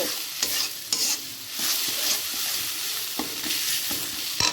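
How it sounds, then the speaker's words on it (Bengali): Spice paste sizzles in hot oil while a utensil scrapes and stirs it in the pan, with irregular knocks over a steady frying hiss, close and fairly quiet. "মশলাটা কিন্তু খুব সুন্দরভাবে কষানো হচ্ছে"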